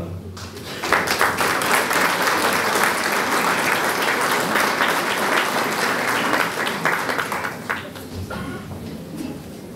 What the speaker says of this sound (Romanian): în aplauzele dumneavoastră, îl invităm pe domnul primar Constantin Toma